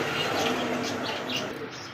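Rasgolla pigeons at a pigeon farm coo softly in a steady, close murmur, with a few overlapping calls and no clear talk.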